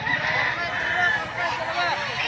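Chickens at a busy poultry market in Lipa City, Batangas, with many birds clucking and crowing loudly and continuously at close range, mixed with background chatter and the hubbub of the market crowd.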